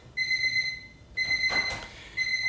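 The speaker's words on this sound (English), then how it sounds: "this timer is going off and distracting me" Timer alarm going off, sounding three evenly spaced bursts of shrill, high electronic beeping, each lasting under a second, close and clear with a brief rustle between.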